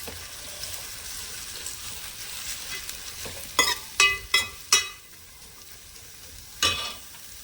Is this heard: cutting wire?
no